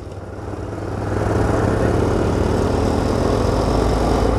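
A Honda Twist motorcycle engine runs steadily and close by, a loud continuous low rumble that swells slightly after the first second and then holds even, with no talking.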